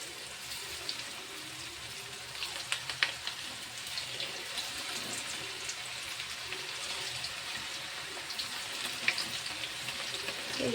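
Food frying in a pan over a low flame, a steady soft sizzle and crackle running throughout with scattered pops and light stirring, close and continuous, with no talking.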